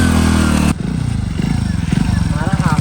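A motorcycle engine runs with a steady, throbbing idle for under a second, then a voice takes over with the motor still rumbling beneath the talk.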